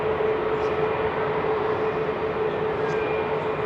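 Ex-KLM Boeing 747 Combi converted freighter climbing out of Heathrow, its distant four-engine roar a steady, even rumble with a thin tonal hum running under it.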